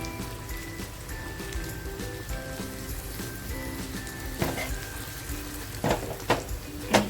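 Finely chopped green chilli added to a potato mixture cooking in a pan, a constant close sizzle with scattered taps and scrapes of a spoon toward the end, while faint tonal music plays behind.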